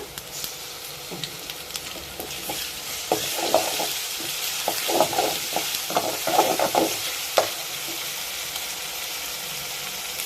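Ginger garlic paste, green chili and curry leaves fry in hot oil, giving a steady crackling sizzle with frequent scraping and clattering as a spoon stirs them around the pan.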